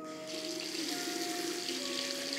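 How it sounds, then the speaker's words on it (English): Water runs from a tap into a bathroom sink during a nighttime skincare routine, a steady hiss and gurgle that starts abruptly and continues close by, with no talking. "splash some water on my face"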